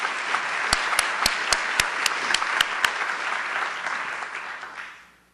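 A faculty meeting audience applauds newly introduced nursing faculty, a steady wash of clapping from a room of people with a few sharper claps standing out before it fades away.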